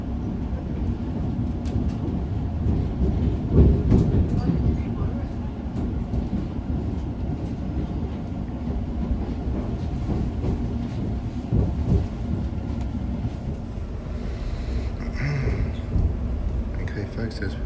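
A London Overground train on the Weaver line pulls into Liverpool Street, a continuous low rumble and rolling rattle inside the carriage with occasional clunks, while a voice talks over it.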